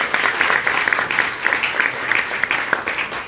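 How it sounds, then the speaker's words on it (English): An audience at a conference applauds keynote speaker Fatima Maada Bio, a dense, sustained round of clapping from many hands filling the room at steady loudness. "I think she deserves another round of applause."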